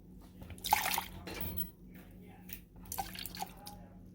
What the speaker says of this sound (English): Again, it's the same unsweetened milk, so I'm pouring that in.